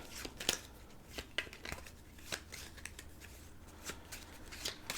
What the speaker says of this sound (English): and shuffle the cards.